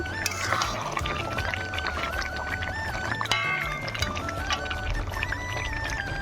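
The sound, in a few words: meat being sautéed in spices in a pan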